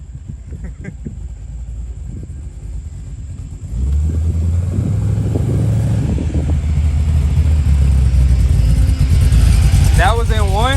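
A 1988 Monte Carlo SS engine with a new O2 sensor idles low and steady, then swells into a louder, fuller rumble partway through as it is revved; a voice chimes in briefly near the end.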